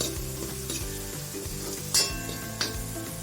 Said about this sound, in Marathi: मटार छान परतले आहेत आता आपण घालूयात बारीक चिरलेल्या वालाच्या शेंगा